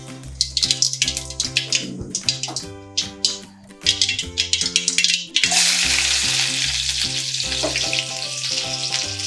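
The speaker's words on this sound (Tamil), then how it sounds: "எண்ணெய் சூடான உடனே பார்த்தீங்கன்னா கடுகு சேர்த்துட்டு" Mustard seeds sputter and crackle in hot oil for a ginger-tamarind pickle, first as sharp rhythmic pops, then building into a loud, steady sizzle close by.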